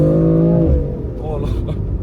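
BMW M4 F82 accelerating hard in second gear around 4000 rpm, a loud engine drone heard from the cabin that climbs then shifts pitch, with someone talking over it.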